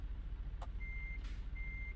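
A Freightliner Cascadia truck in American Truck Simulator sounds two evenly spaced reversing beeps over a low idling rumble, with short airy hisses between them.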